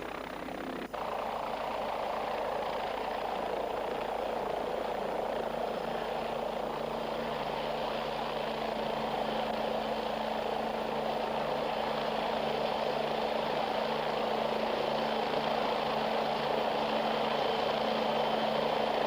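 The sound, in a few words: military helicopter flying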